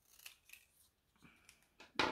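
A few crisp snips of large scissors cutting paper for card-making, spaced irregularly, ending in a louder, longer slice; close and otherwise quiet.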